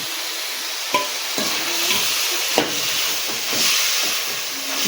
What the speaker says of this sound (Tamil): நல்லா பீக்கங்காய் வதங்கிடுச்சு தக்காளி சேர்த்துக்கணும்